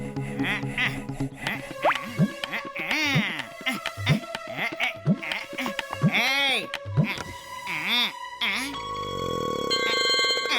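A telephone rings in a drama scene, a repeated ringtone melody in short bursts mixed with other electronic tones and musical sounds.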